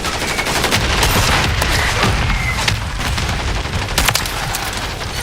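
Dense, continuous video-game battle din: heavy booming mortar blasts layered with rapid bursts of gunfire and crackling shots, loud and sustained throughout with no pause.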